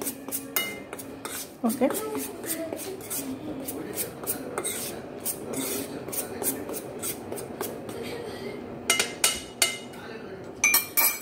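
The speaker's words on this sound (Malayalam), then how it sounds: "എല്ലാം കൂടെ ഒന്ന് സ്പൂൺ കൊണ്ട് തന്നെ ഒന്ന് മിക്സ് ചെയ്തെടുക്കാം" A spoon scrapes and clinks around a bowl while mixing chilli and onion vada batter, with repeated sharp clinks in bursts, loudest toward the end, and a brief word spoken once.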